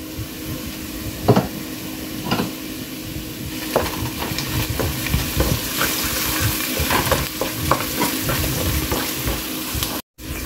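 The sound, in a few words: shrimp and onions frying in a pan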